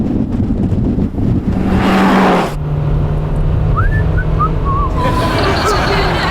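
A car is driven hard on a Top Gear test-track lap, its engine roaring loudly and near with gear changes and revving surges, while a voice talks over it.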